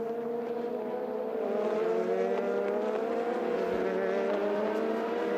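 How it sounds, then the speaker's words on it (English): GT race cars roar past at Le Castellet during a 4-hour endurance race, engines loud and sustained with rising and falling pitch as several cars pass one after another, no talk over them. "So they sound like GT cars to me."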